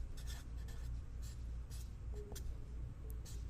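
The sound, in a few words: writing on a board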